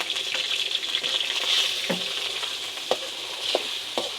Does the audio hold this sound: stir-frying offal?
yes